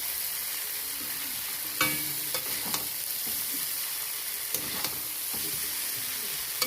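Chow mein noodles stirred in a hot pan: a constant hissing sizzle with occasional soft scrapes and taps of a utensil spread unevenly through, near and moderate in level.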